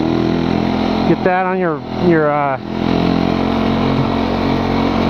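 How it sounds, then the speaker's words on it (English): An old four-stroke snow bike engine idles with a low, steady blubbering rumble throughout, while someone speaks briefly over it partway through. "Listen to the old 4-stroke blubbering away."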